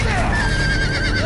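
Horses whinnying in a Game of Thrones video game battlefield scene, a drawn-out neigh with hooves and a dense battle din behind, loud and close, with someone talking over it.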